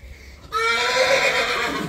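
A horse at a 4-H county show lets out a loud, close whinny that starts abruptly and holds for over a second, with no talk over it.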